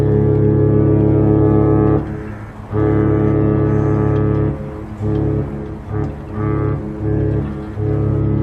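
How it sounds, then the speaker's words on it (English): Deep horn blasts from a cruise ship departing the Port of Southampton, a loud sustained honk that breaks off and returns in several shorter bursts. "some good quality honking there"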